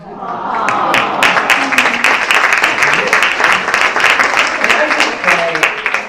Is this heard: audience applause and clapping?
yes